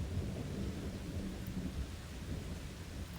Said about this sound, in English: It's thunder and lightning here,